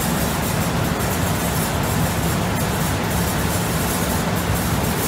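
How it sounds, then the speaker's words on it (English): Constant broadband roar of server cooling fans filling a data center room around an IBM x345 server, steady and loud with no change or pauses. "As you can hear all that noise in the background, it's because I'm in a data center"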